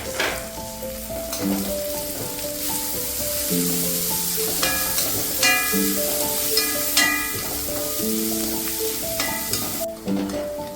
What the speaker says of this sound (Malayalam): ഇഞ്ചി, വെളുത്തുള്ളി, പച്ചമുളക് എന്നിവ ചേർത്ത് ഒരു 3 to 4 minute medium to law ഫ്ലെയിമിൽ ഒന്ന് വഴറ്റി കൊടുക്കാം